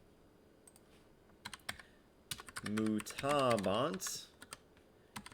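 Quick, irregular clicks of typing on a computer keyboard while Latin worksheet answers are entered. Bursts of keystrokes come before and after a spoken Latin word, and some keys fall faintly under the voice.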